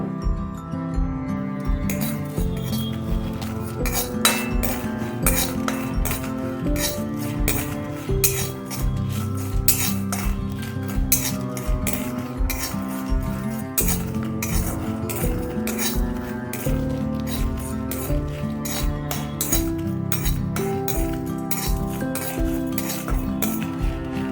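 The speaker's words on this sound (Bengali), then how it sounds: "এগুলোকে আমি শুকনো কড়াতে একটু" Steady, rapid clattering and scraping of a utensil stirring cardamom, cinnamon and cloves dry-roasting in a metal pan, close and loud, with no talking.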